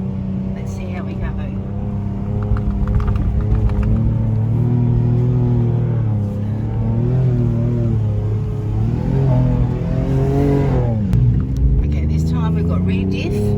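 A 4WD with front and rear diff locks engaged in 4 high labours up a steep sand dune, its engine droning loud and close, rising and falling in pitch as the throttle works through the climb.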